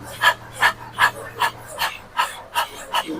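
During a yoga class, people imitate a panting dog with tongues out, breathing in quick rhythmic huffs about eight times at an even pace, moderately loud and without speech.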